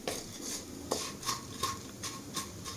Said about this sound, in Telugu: అటుకులు కూడా వేగుతున్నాయి, లైట్ గోల్డెన్ కలర్లోకి వచ్చేసాయండి.